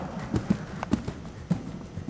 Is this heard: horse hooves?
yes